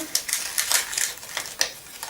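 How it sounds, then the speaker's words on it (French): Scissors snip through the plastic packaging of a Primark item in a few quick, sharp bursts, close and fairly quiet, with no talking. "j'ai pris une paire de ciseaux, du coup ça va plus vite"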